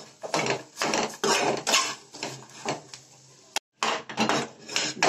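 A spoon scrapes and clinks against a pan while dry fruits and dates are stirred together for sweet laddus. The scraping comes in close, uneven strokes with a brief silent gap, and no one speaks.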